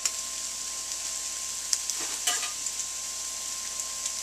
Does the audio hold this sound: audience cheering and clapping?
no